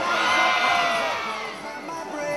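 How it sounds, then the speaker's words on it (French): A crowd of girls shouts and cheers together in a loud, sustained burst that swells and dips slightly, with high excited voices and whoops at an outdoor race start. "On va voir si les filles vont crier plus fort."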